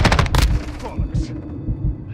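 Gunfire in the game Call of Duty MW2 DMZ: a fast burst of loud close shots up front, then scattered heavier thuds under a speaking voice.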